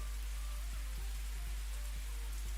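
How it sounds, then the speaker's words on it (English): Rain from a PC visual novel game: a steady, close hiss of falling rain with soft scattered drop taps and a low hum beneath, heard alone without voices. "As I trekked through the rain"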